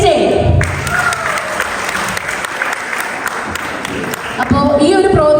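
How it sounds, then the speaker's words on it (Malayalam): Audience applause at an Onam celebration, a loud dense burst of many hands clapping that holds steady, with voices audible at the start and end. "ഒന്ന് കൈയടിച്ചേ"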